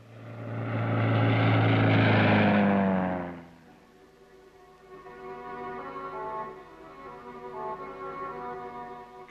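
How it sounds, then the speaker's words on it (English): An Australian Army spotter plane over Vietnam passes low with a loud propeller drone that peaks, then drops away after about three seconds to a softer, distant engine hum. "The patrol maintains contact with Australian Army spotter planes, or bird dogs, which report back any movement on the ground."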